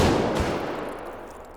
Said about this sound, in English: it's sort of like a super buckshot rocket. You'll also notice it has a less intense sound